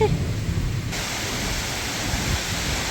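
Heavy rain pours down during a nighttime thunderstorm, a dense, continuous hiss with a low rumbling undertone throughout.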